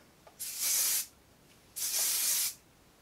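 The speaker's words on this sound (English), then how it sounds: "But let me just spray some of this in my hair" Hairspray hisses from an aerosol can onto lifted hair in two steady bursts, each just under a second long and separated by a short pause, close and fairly loud with no talking.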